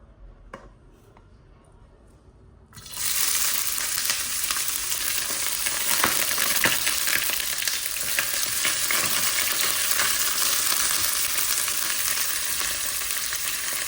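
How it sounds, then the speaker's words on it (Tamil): Onion and curry leaves dropped into hot oil for Sri Lankan kothu roti: quiet ticking at first, then a sudden loud burst of sizzling that continues steadily with stirring clatter. "எண்ணெய் ஹீட்டாகிட்டு வெங்காயமும் கருவேப்பிலையும் போடுவோம்."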